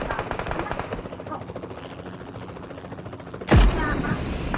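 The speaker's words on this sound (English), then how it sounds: "Oh man, he took the helicopter as well." Helicopter rotor chopping steadily in the PUBG Mobile battle royale game, a loud continuous thudding pulse with a sharp burst near the end, under game sounds.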